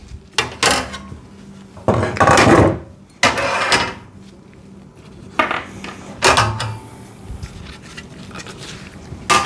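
Steel screws, washers and nuts for a VEVOR foldable 30x20-inch welding table are handled and set down in several distinct metallic clattering bursts with quiet gaps between, close by and fairly loud.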